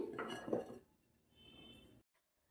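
A lid is set onto a cooking pot with a short metallic clatter, followed by a faint, brief scrape and then silence.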